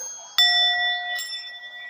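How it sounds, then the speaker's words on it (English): A singing bowl is struck once, a bright close ring that hangs and slowly fades, then it is lightly struck or brushed again near the end. "I'm using a singing bowl for this."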